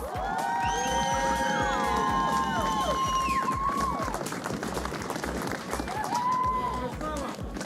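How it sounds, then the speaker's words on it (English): A crowd at a kart racing podium ceremony claps and cheers loudly and steadily, while an announcer speaks over a public address system with a pulsing music beat underneath. "Let's hear a big round of applause for Lev Krutogolov."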